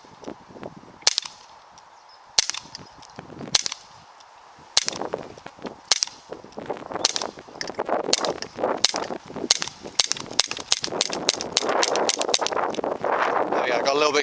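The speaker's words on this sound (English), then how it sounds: "It's another 20 rounds of the Smart Shot." An air gun fires H&N Excite Smart Shot low-ricochet lead 4.5 mm BBs. Sharp cracks come slowly at first, then quicken into a dense run of shots. A voice talks over the later shots.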